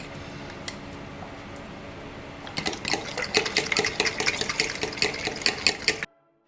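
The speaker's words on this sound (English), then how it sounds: "it says you've got to stir it very vigorously to stop it going into a lump" Brusho thickener powder being stirred vigorously into water, a quiet watery swish at first, then a fast run of close, sharp clinking and scraping strokes for several seconds before it stops abruptly.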